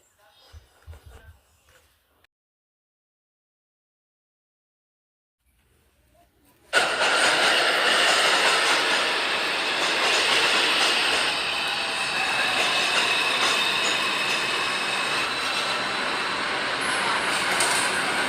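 A Bronx-bound New York 2 subway train near Times Square roars along steadily and loudly after a near-silent opening, its rumble and rattling broadband noise sustained throughout.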